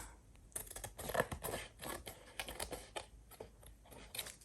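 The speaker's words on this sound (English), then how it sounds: "And now I will just cut away all the excess on the edges." Scissors trimming excess paper off the edges of a junk journal page, a quiet run of short crisp snips and paper rustles in an uneven rhythm, close up, with no talking.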